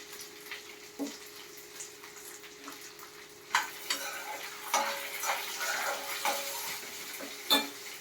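Four dry red chillies dropped into hot oil in a pan for mango pulihora, giving a faint sizzle with occasional clinks and scrapes of a spoon against the pan, close but quiet, with a steady hum underneath.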